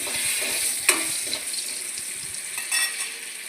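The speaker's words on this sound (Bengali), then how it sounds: "আলুটাকে ভালো করে নেড়ে নেব।" Potatoes fry in a pan while being stirred, a steady close sizzle broken by a few light scraping clacks of the spoon against the pan, with no talking.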